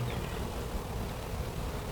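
Honeybees hum steadily around an opened hive during an inspection, a soft continuous low buzz close by with faint wingbeat flutter and no voices.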